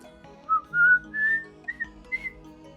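A person whistles a song melody alone, a few sustained notes followed by short chirpy ones, close and clear with no talking.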